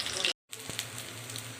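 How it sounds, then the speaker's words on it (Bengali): A potato chop fries in hot oil with a soft, steady sizzle. The sound cuts out briefly and then resumes at the same low level. "আজকে দুটো চপ ভাজছি, একটা ভেজেছি আর এই একটা ভাজছি"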